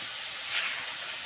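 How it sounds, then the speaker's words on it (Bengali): Water hits hot oil in a pan of frying masala fish curry, producing a brief bright sizzling hiss that swells and then settles into a steady crackle, close up with no talking. "এবারে জল দিয়ে দিচ্ছি। হালকা জল দিয়ে দিলাম।"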